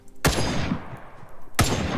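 Two sharp single gunshots from a modern AK-style rifle in the survival game The Front, spaced over a second apart, loud and close with rumbling tails, firing one round at a time.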